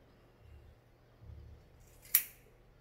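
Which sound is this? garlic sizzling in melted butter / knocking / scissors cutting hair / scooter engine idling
scissors cutting hair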